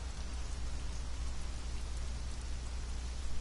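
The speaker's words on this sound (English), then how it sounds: "But apparently it rains a lot here too." Steady rainfall in the survival video game Conan Exiles, a soft, even patter of drops on surfaces that continues unbroken and fairly quiet, with no one speaking.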